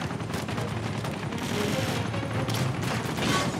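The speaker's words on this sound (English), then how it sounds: "How many times do I have to shoot this fucking thing?" Repeated gunfire from a player shooting in Uncharted 2, a steady rattle of shots over a busy, noisy background, with a few louder cracks near the end and no clear talk.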